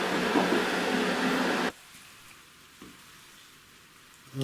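Paella water and rice boiling hard in a pan on a high flame, a loud steady bubbling hiss that cuts off abruptly partway through, leaving a quiet background.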